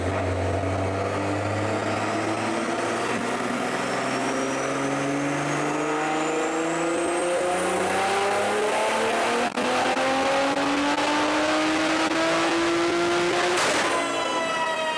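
Tuned turbocharged car engine on a chassis dyno at 36 PSI boost, droning loud and close as its pitch climbs steadily over a long pull of about thirteen seconds, then cutting off abruptly before a short final rise.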